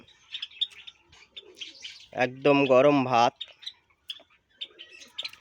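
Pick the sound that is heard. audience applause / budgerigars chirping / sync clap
budgerigars chirping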